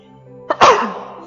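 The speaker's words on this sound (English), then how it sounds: "Excuse me, sneezing." A single close, sharp sneeze from a woman during a quiet evening yoga session, a quick intake followed by a loud burst that trails off, with a soft low hum in the background.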